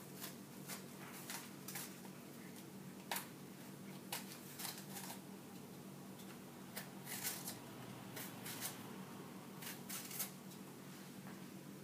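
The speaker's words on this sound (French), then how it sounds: "Tout d'abord, nous allons éplucher notre pomme." An apple is peeled for an American apple pie, making a steady, close scraping and rasping run of short strokes with brief pauses, without speech.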